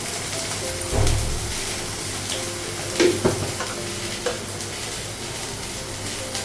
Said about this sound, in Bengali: সয়াবিনটা লাগাবো, লবণ দেবো